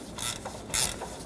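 Two short bursts of ratchet wrench clicks as nuts are tightened on the transmission mount of a 2009-17 Chevy Traverse, nearby and fairly quiet.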